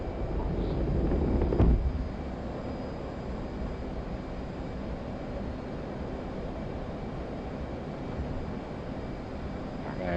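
In the DCS World flight game, an F/A-18 Hornet's jet engine roars at high thrust on a carrier deck, a steady dense rumble with a brief louder swell near the start.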